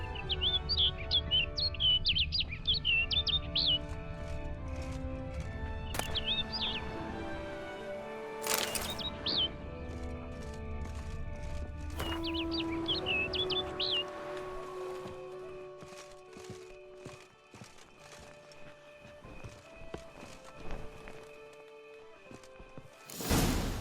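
Bright, rapid birdsong chirps repeat in short trills in Witcher 3: Blood and Wine, over a bed of sustained game music, with footstep-like clopping and rustling building toward the end.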